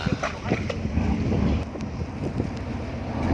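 A tugboat towing a small fishing boat with a broken engine, heard as steady engine rumble mixed with wind buffeting and water noise on the open sea, with faint voices underneath.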